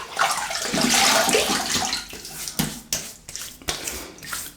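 Water runs from a tap while a shaving brush is wetted, a strong rushing stream at first that eases off, then a few short splashes and knocks close by with no talking.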